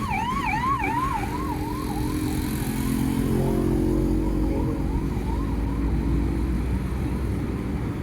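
A wailing ambulance siren sweeps loudly up and down over the steady rumble of a moving car on the road, the warbling tone cycling repeatedly and staying prominent for several seconds before softening.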